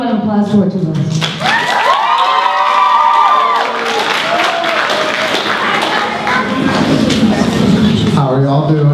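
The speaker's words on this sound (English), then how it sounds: "Let's give a round of applause for our two of us." A school audience at a Poetry Out Loud recitation event claps and cheers steadily for about nine seconds, loud and close, with voices calling out over the applause.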